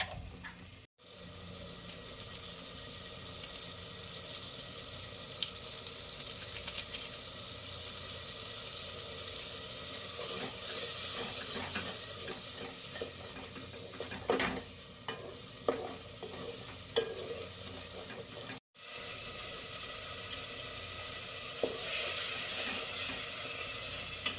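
Chicken fries with ginger garlic paste, salt, turmeric and chili powder, a steady close sizzle and hiss running throughout with occasional stirring scrapes and clicks, no voices.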